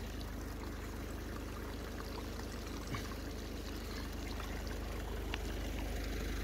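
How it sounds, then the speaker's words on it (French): A small river flows nearby with a steady broadband rush and trickle, constant and fairly loud, with a faint low hum underneath and no voices. "Il y a une rivière là. Mais regarde, le débit."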